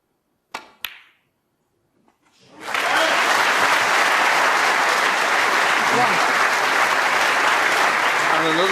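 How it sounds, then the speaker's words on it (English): At the 2016 World Snooker Championship semi-final, a couple of sharp clicks are followed by a pause, then a large crowd bursts into loud, sustained applause that swells quickly and keeps going steadily. "There's a tremendous reception when he was introduced by Rob Walker."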